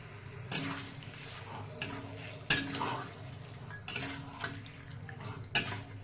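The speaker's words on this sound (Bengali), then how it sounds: "তো এবার দেখো বন্ধুরা, আমি চিকেনগুলোকে ভালোভাবে কষিয়ে নেব।" Chicken cooked with spices for ghugni is sautéed in a pan, with a low sizzle underneath and several sharp metallic clanks and scrapes of a utensil against the pan spaced a second or so apart.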